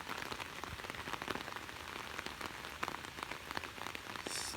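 Heavy rain pouring down outdoors, a dense, steady hiss of drops striking surfaces with scattered sharper splatters, continuous and fairly loud throughout with no voices.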